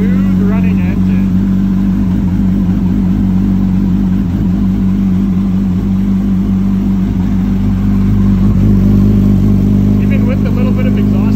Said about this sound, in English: So that's bone cold, and that is a smooth running engine.